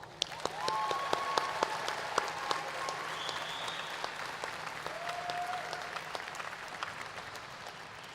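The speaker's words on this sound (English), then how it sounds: "let's give ourselves the first of many, many rounds of applause." Sustained audience applause at a graduate school commencement ceremony, a steady even wash of clapping that continues at a moderate level throughout, with a few faint tonal whistles or squeaks above it.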